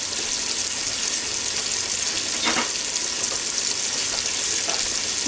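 Food cooks in a Ninja Foodi with a steady, loud, broadband hiss like frying, unbroken for several seconds, with a few faint clinks rising briefly above it.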